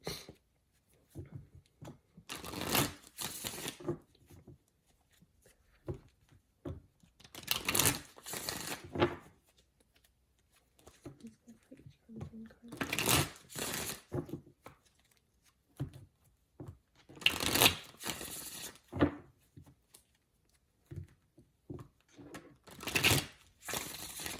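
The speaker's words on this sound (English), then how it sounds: "Let's get 2 more shuffles." Tarot cards are shuffled in several quick, crisp riffling bursts spaced a few seconds apart, with quiet pauses and small handling rustles between them.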